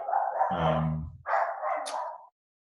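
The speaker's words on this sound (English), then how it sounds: "Sorry, dog's barking." A dog barks close by, two drawn-out, yowling barks separated by a short pause, with nothing else audible.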